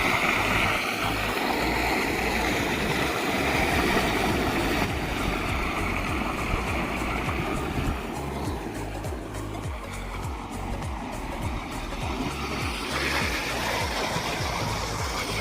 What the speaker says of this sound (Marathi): घासावर पाणी चालू झालं आहे आता.